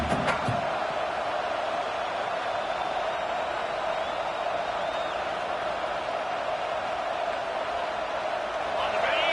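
Broad roar of a college football video game stadium crowd cheering continuously, loud and steady, with a brief thump at the start and a steady tone running underneath.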